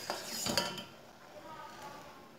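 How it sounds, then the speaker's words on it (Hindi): Metal clinks and scraping of a utensil against a pot as milky tea is whisked while it cooks on the stove, a few sharp chinks early then softer steady stirring, close and moderately loud. "पांच मिनट तक मैंने चाय को पका लिया है फेंटते हुए।"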